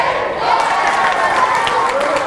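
A crowd cheers and applauds at a girls high school basketball game, Happy Valley against Chuckey Doak, after a three-point basket; a steady, dense wash of cheering and clapping fills the gym with some talk mixed in.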